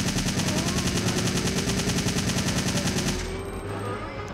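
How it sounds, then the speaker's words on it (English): Assault rifle fire in the video game Resident Evil 3: Nemesis, a sustained, loud rapid-fire burst of evenly spaced shots that stops abruptly near the end, leaving a low droning game background. "just take your assault rifle out and unload on them"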